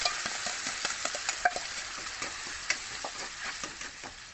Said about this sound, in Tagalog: Halo natin yung nimix ko kanina na masala.